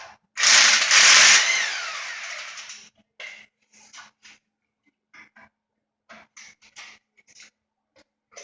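Harbor Freight impact wrench, a budget cordless-style tool, removing a car's motor mount bolt at the K-member: a loud whirring hammering burst of about two seconds, followed by short scattered clicks and scrapes.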